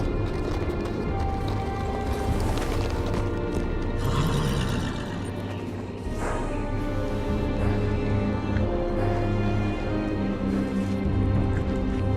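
Horse whinnies and hoofbeats at the Wall, seat of the Night's Watch, in the Telltale Game of Thrones video game. They sit within a dense, steady bed of game music and ambience.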